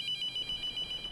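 A telephone rings in the horror game The Mortuary Assistant, a high electronic trill pulsing in quick repeated bursts at moderate volume, with no talk over it.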